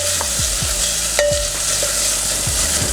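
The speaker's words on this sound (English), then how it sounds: "I fry for probably 2 to 3 minutes for the ginger and onion to cook" Fresh ginger and onion frying in olive oil for a black-eyed bean and mushroom curry, a loud continuous sizzle with a few scraping stirs and a brief metallic clink.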